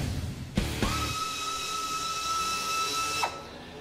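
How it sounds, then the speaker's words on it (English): An Ingersoll Rand 1105 Max mini air ratchet with a composite body runs in one continuous whirring, hissing burst of about two and a half seconds, with a sharp start and a clean stop. "Hey Pete, how's the 1105 Max Mini Ratchet working?"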